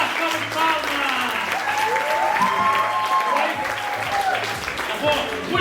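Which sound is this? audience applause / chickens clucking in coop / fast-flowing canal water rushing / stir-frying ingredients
audience applause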